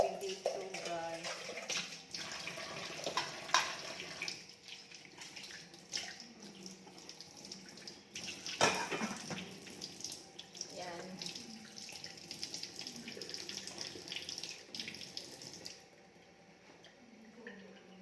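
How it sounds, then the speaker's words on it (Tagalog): A strong stream of water runs from a kitchen sink tap into the basin, a steady rushing splash with shifting spatter as things move under it, continuing for most of the time before easing near the end. "Malakas ang tubig dito guys."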